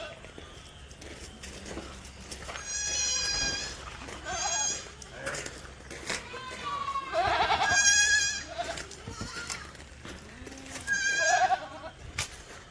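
Several goats at a Malappuram goat farm let out repeated, fairly close bleats in bursts, with someone talking quietly in between.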